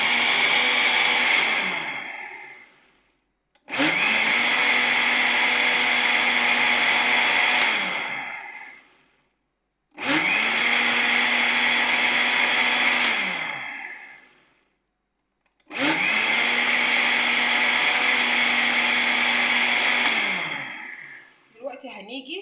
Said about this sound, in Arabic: هنشتغل بقى بالخلاط